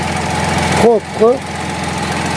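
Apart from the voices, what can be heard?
Fiat Panda Hybrid 1-litre 70 hp engine running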